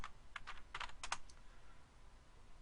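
Typing on a computer keyboard while working in SPSS: a quick, faint burst of several key clicks in the first second, then quiet room tone.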